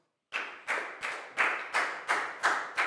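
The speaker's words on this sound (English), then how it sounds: "Big round of applause for Nadia," A small school class claps for a pupil, heard as eight evenly spaced, rhythmic claps or taps, close and moderately loud after a brief silence.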